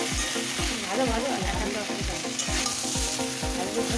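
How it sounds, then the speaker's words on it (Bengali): Potato and cauliflower stir-frying with spices, steady sizzling under a regular rhythm of spatula scrapes against the pan, about two strokes per second, close and loud. "তাই খুব ভালো করে আমি কষে নিচ্ছি।"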